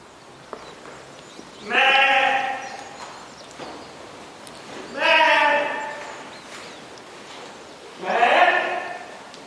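Three loud, wavering sheep bleats, each about a second long, separated by short pauses over a quiet background.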